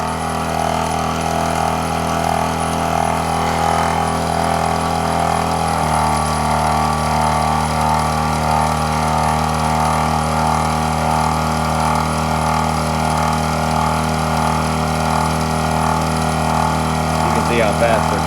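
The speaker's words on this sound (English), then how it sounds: "Now we're airing up all the tires at once." An EZFLATE Moab air compressor inflating all of a vehicle's tires at once, running with a loud, continuous mechanical drone and hum that shifts pitch partway through, while people talk over it.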